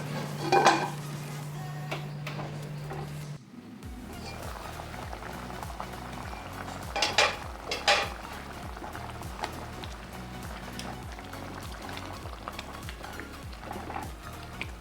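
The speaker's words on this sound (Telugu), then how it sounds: "దగ్గర ఉడుకుతుందండి వాటర్ అంతా సగమైంది" Country chicken curry boils in a pot, its water already reduced by half, with a continuous close bubbling and occasional pot and utensil clatter layered over the rolling simmer.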